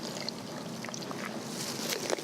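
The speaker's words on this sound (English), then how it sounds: "And then we're going to add a little bit of milk to make it nice and smooth." Milk poured into a smoothie, a short close trickling and splashing pour lasting a couple of seconds with no voices over it.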